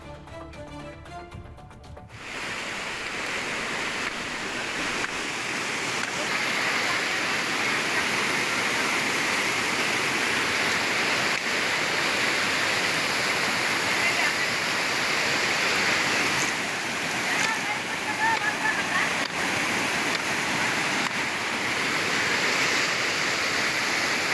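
A waterfall in flood during heavy coastal rains in Uttara Kannada roars steadily and loudly, a dense, unbroken rush of water that holds constant throughout with no voices.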